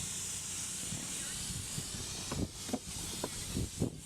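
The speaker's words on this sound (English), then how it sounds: "And then I add a little bit of a spray." A spray bottle mists liquid onto popcorn for dill pickle flavoring at a farmers market stall, with a few short hissing spritzes near the end over a constant background hiss.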